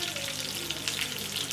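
Chicken roasting in a banana leaf in a pan over low flame, a dense, steady sizzle and hiss that stays close and even for a brief moment with no voices.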